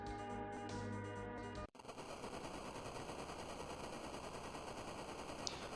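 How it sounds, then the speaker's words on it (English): Red Wings airships bomb Damcyan Castle in the Final Fantasy IV video game: after a burst of game music cuts off, a dense, continuous rumble of explosions and bombardment fills the scene, loud and unbroken. "So the Red Wings are bombing the Damcyan Castle."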